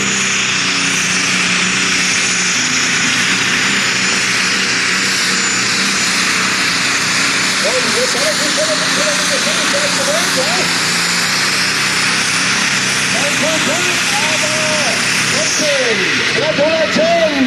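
Tractor pulling engine roaring at full power during a 1992 tractor pulling competition in Füchtorf, a loud continuous drone throughout with an announcer talking over it.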